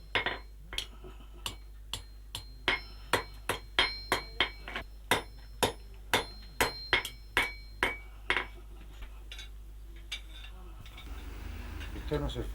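Blacksmith's hammer striking hot iron at a forge in the Cabrera Alta area of León, Spain: a long run of sharp, ringing metallic blows at a steady working rhythm, close and distinct, over a low rumble that swells near the end.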